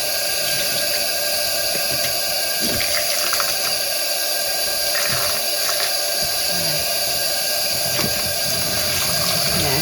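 Dyed yarn rinsed under a running tap, a steady loud rush of water with gurgles and splashes as the fibres are worked in the stream.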